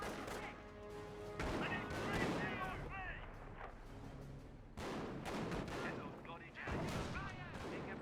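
Gunfire and artillery in the World War II strategy game Company of Heroes 1, with repeated heavy blasts and rattling shots in bursts, layered battle noise with whistling shells, loud and continuous.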